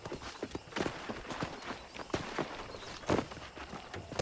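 Horse hooves clip-clopping while riding in the video game Red Dead Redemption, a quick, irregular run of soft thuds and clops at moderate distance, fairly quiet, with faint background sounds.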